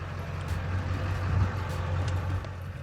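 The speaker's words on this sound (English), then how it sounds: "I leave the truck running, so I have that alternator providing my power and not the battery." A parked truck idles with its engine left running, a low steady rumble with a faint hum throughout, heard from inside the cab with no talking.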